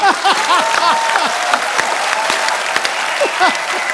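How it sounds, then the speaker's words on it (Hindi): Studio audience at a television comedy talk show applauding loudly, with a steady roll of clapping mixed with crowd cheering and whistle-like calls throughout. "जोरदार तालियां।"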